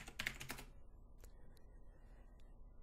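Fingers type on a computer keyboard in a quick, faint flurry of close clicks lasting under a second, followed by a few isolated single key taps.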